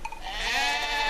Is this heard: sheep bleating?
yes